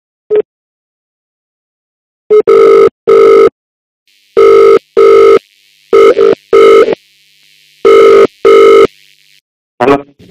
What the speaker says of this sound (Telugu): ఆదికి కూడా ఫోన్ చేసి ఆ తర్వాతే వీళ్ళని పిలుద్దాం.